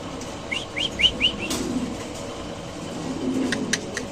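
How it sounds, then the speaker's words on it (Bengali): Fancy pigeons at a pigeon seller's stall flap their wings in a few quick bursts amid short squeaky chirps, followed by a quieter stretch with faint clicks and low background rumble. "এখানে আছে এক জোড়া শৌখিন কবুতর"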